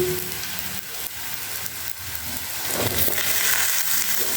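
Kohlrabi frying with onions in a pan for a chicken stew makes a steady, close sizzle that swells slightly louder toward the end, with no talking.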